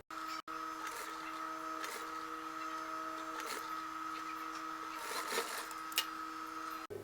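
Sewing machine stitching velvet cowl sleeves on a shrug jacket, a steady continuous mechanical whir with a sustained hum running almost without pause, briefly cut twice, close and fairly loud.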